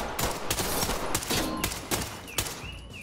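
Gunfire in the tactical shooter Ready or Not, a rapid burst of loud, close shots in an uneven cluster, followed by a few more spaced shots and faint ringing tones.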